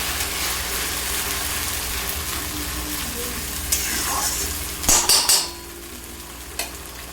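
Spices and tomato paste being sautéed in a pan for a jackfruit vegetable curry, a continuous sizzle and frying crackle with clattering stirring and a few sharp scraping knocks of the utensil against the pan.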